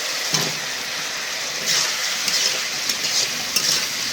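Potatoes tossed into a pan of oil already cooked down with turmeric, chili, coriander and cumin powders give off a steady, moderate sizzle with faint stirring scrapes, no voices.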